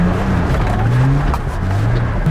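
An off-road vehicle's engine drones loud and steady, low and continuous as it climbs a technical obstacle on a dirt trail, with a faint whine of tyres or drivetrain over the rumble.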